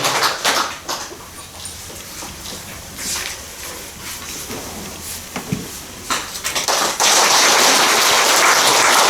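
Loud applause at a Buddhist dharma assembly, clattering and uneven at first, then swelling into a dense, sustained roar of clapping near the end, with no talk over it.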